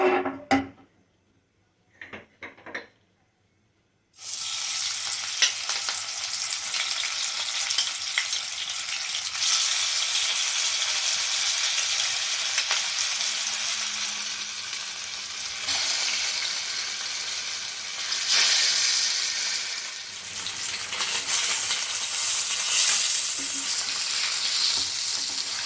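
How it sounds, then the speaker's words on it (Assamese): Pieces of catla fish fry in hot mustard oil, a loud, dense, steady sizzle that bursts in after a few quiet seconds and crackles on without a break. "এতিয়া আমি তেলটো গৰম হোৱাত মাছখিনি বহাই দিম"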